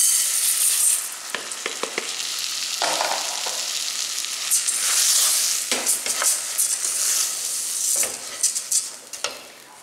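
Rice and garlic fry in a pressure cooker with a bright, steady sizzle, broken by repeated scraping stir strokes at close range; no one speaks.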